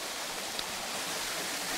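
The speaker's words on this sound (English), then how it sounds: "First of the waterfalls for today, hopefully." A waterfall in the Northern Campsies on the Gargunnock Circuit gives a steady, even rush of falling water, faint and unbroken, with no voices.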